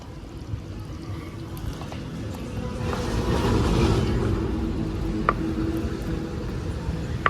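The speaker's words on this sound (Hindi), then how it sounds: "इसमें ऐड कर देते हैं हम कटे हुए हमारे पनीर के पीस" Cut paneer pieces drop into simmering butter masala gravy, a soft bubbling and sizzling wash with a few faint clinks of utensils, close and steady without talk.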